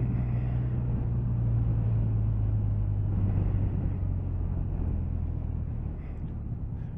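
A 2022 BMW R1250RT motorcycle rolls downhill in first gear, its engine a steady low rumble with a strong constant drone and wind noise, continuous and close throughout.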